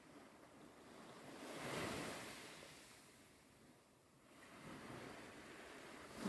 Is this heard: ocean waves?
yes